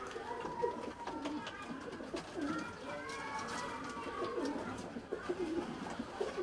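Soft, repeated pigeon coos murmur close by, several birds overlapping in a low, rolling rhythm against a faint background hum.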